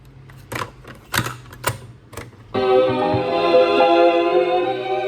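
A few sharp mechanical clicks and clunks, then a Sony CFS-E16 cassette radio player starts playback with a steady, full sound that continues to the end.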